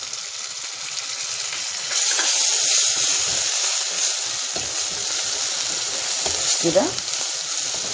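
Vinegar hits a hot pan of sautéed onion and garlic, setting off a loud steady sizzle and hiss that surges and then carries on, with a brief word spoken over it.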